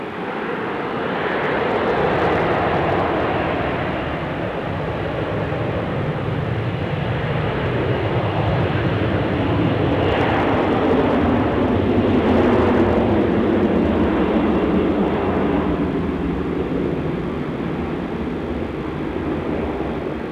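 Toll freight airplane on its takeoff roll at Sydney Airport, a loud sustained jet engine roar that swells and shifts in pitch as it accelerates down the runway, heard alone.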